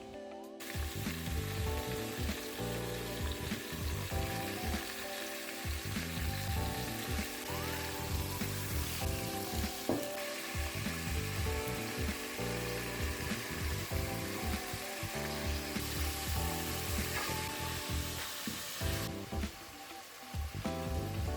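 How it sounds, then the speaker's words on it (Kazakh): Meat sears in a little hot liquid oil inside a heated kazan cauldron, the first step of a Kazakh dimlyama stew; a loud, steady sizzle and crackle runs unbroken for about twenty seconds with no voices. "қызып тұрған қазанға кішкене сұйық май құйып, ең алдымен етті жан-жағынан қызартып,"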